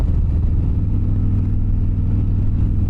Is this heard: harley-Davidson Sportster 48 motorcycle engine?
yes